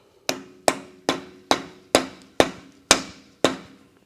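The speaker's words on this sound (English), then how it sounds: "Use a rubber mallet to prevent damage." A rubber mallet taps a metal dust cap onto a front wheel hub, eight sharp evenly spaced knocks at a steady rhythm, close and clear with short ringing decay.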